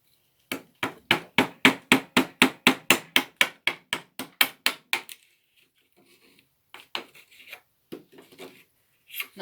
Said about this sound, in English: when I started chiselling, the groove just popped out very, very quickly